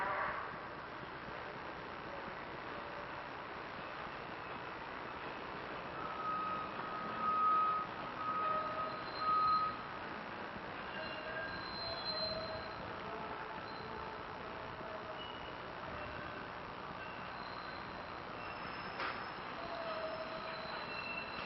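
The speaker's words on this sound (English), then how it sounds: "here we have a subway train that just came out of the tunnel and is heading into the terminal" A Broad Street subway train emerges from a tunnel and heads into the terminal, giving a steady, moderately distant rumble with a few short electronic beeps partway through and no talk.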